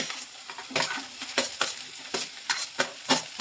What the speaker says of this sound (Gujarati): અને પછી હવે નાખી દઈએ ટમેટું ને મરચું ને કોબી